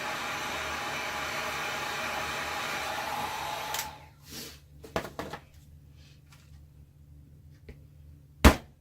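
A heat tool blows hot air onto dried jewelry resin, a steady close whoosh for several seconds that cuts off, followed by scattered knocks and taps.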